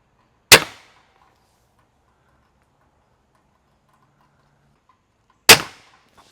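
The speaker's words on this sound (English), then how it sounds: "Let's run a few bolts through here through the chronograph and see what we come up with." An Excalibur Rev X crossbow fires bolts through a chronograph: two sharp, loud snaps about five seconds apart, each decaying quickly, with near silence between them.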